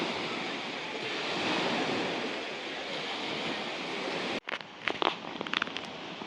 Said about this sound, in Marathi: माझ्या पाठीमागे समुद्र आहे